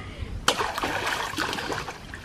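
Water splashes and trickles as fish are washed by hand, with a sharp splash at the start followed by steady sloshing and dribbling close by.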